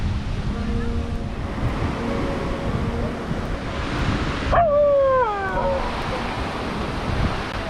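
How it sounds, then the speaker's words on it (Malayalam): Ocean surf washes continuously onto a beach at Odayam in Kerala at sunset, with wind noise, and a single short whining yelp from a nearby dog rises briefly above the waves midway. "എപ്പോഴും എവിടെ ചെന്നാലും ഒരു ഡോഗ് ഉണ്ടാകും കൂട്ടത്തിൽ"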